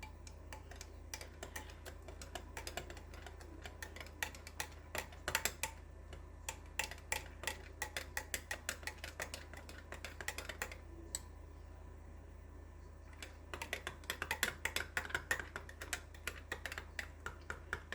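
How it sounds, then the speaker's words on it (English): A spoon stirring yeast into liquid in a glass bowl, giving quick, light ticking clinks in uneven bursts, close and faint, with a brief pause midway and a steady low hum beneath, no speech. "all we want to do is stir that yeast in"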